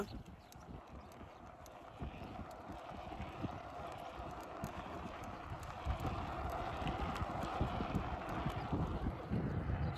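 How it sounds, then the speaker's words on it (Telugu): A steady low rumble of bicycle tyres rolling over a rough road, growing slightly louder as it goes, with a rattly, clattering texture throughout. "నా సైకిల్కి టైర్లు సౌండే విపరీతంగా వస్తాను ఏదో పెద్ద బండి పోయినట్టు"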